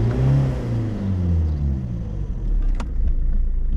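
A BMW E46 car engine with a new fuel pump revs up loudly and close by, its deep rumble climbing in pitch, then easing off and building again, with no talking over it.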